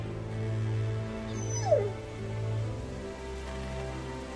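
A puppy in the video game The Walking Dead Season 2 gives a single rising whimper with a brief high yip, close and clear over a low steady background hum, with no talking.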